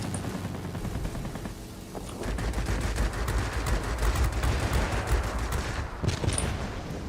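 Anti-aircraft guns firing during an aerial battle in World of Warplanes, a dense continuous rattle of rapid shots with dull booms underneath, steady and loud throughout with no talking.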